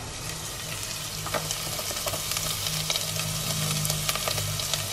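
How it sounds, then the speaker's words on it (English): Onions, garlic and ginger fry in olive oil with a steady, close sizzle, crackling and popping throughout, occasionally stirred, with no talking. "And now I'm gonna add all of my cut up ginger"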